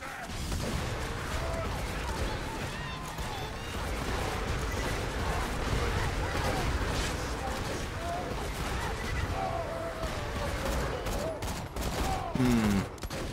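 Repeated gunfire from the Amigo Sincero, a legendary weapon in the shooter game Borderlands 2, crackles steadily through dense game noise, with a brief louder burst near the end.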